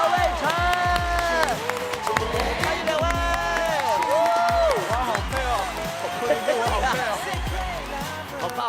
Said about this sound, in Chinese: 掌声欢迎昆凌和魏晨